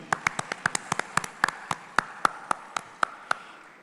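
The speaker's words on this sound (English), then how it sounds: "Round of applause for her as well, ladies and gentlemen." Sparse, steady hand claps from an audience at the opening ceremony of the first SCO Film Festival, roughly a dozen distinct claps in quick succession, thin rather than a full ovation.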